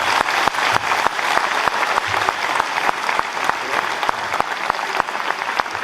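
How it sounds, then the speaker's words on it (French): An audience applauding caterer Pierre Martinet at a tribute event, a dense sustained round of clapping from a crowd, loud and even with sharp individual claps standing out, continuing without letting up. "On peut l'applaudir."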